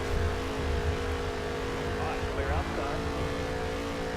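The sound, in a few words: NASCAR race car engine from video game NASCAR Heat 3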